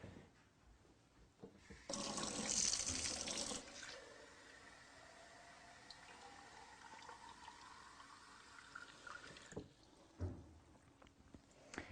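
Gravity-fed spring water runs from a house faucet with no pump, a soft continuous hiss of flowing water with a louder gush near the start before settling to a quieter steady stream.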